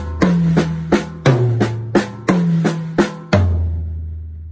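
Close, loud tom drums played with compound sticking using double strokes, a single hit followed by a quick double in repeating groups, moving across toms of different pitch and ending on a deep tom that rings out.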